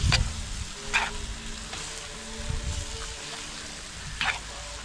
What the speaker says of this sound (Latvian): Atkal rūpīgi izmaisam.